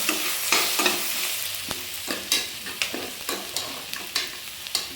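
Onions and green chillies browning in a pan for mutton biryani, an even sizzle punctuated by regular rhythmic spatula strokes scraping and tapping against the pan.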